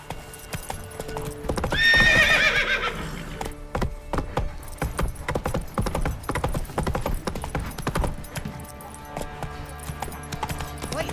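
Rapid clip-clop of a horse's hooves galloping in the video game The Witcher 3: Wild Hunt, a loud neigh near the start, then steady rhythmic hoofbeats continuing throughout.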